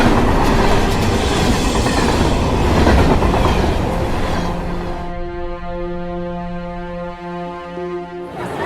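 A locomotive rolls along rails with steady clickety-clack and rumble, then a sustained horn-like tonal drone rises over the running noise; loud and continuous, no talk.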